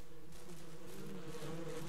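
Bees buzzing in the video game Ranch Simulator, a continuous droning hum from a swarm that wavers slightly in pitch, faint but steady and heard alone without talk.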